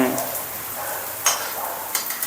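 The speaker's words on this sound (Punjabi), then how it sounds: "ਆਇਲ ਦੇ ਵਿੱਚ ਚੰਗੀ ਤਰ੍ਹਾਂ ਫਰਾਈ ਕਰਨਾਗਾ ਜਿੰਨਾ ਤੱਕ ਇਹ ਲਾਲ ਨਹੀਂ ਹੁੰਦੇ" Chopped onions frying in oil in a pan for a Punjabi-style sabji, with a steady soft sizzle and occasional stirring scrapes and clinks close by.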